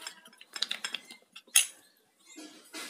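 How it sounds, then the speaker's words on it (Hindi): A metal spoon stirs a thick homemade face pack paste in a bowl, giving quick clinks and scrapes in short bursts with a brief louder knock, close up and with no talking. "थोड़ी थिक पेस्ट बनानी है और इसको अच्छे से हमें मिक्स करना है ताकि कोई भी लम्प्स ना रहे इसमें।"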